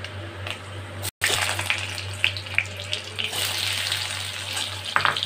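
Potatoes go into a pan of frying whole spices for Bengali pumpkin chokka, producing a continuous close sizzle and crackle after a brief drop-out, with small spits and pops throughout.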